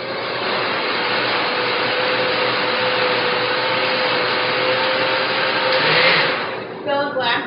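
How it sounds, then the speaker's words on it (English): A blender running on high, blending a coffee drink to a thick consistency, with a loud continuous whirring roar that holds steady and then sputters and stops near the end. "Then blend on high until you reach your desired thickness."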